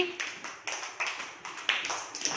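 Small bursts of children's applause in a classroom come in a steady series of brief, crisp rounds of light clapping. They are moderately faint, with no voices.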